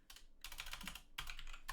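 Close computer keyboard typing while writing script code in Roblox Studio, a quick steady run of soft key clicks in two short bursts with a brief pause between, faint and with no talk.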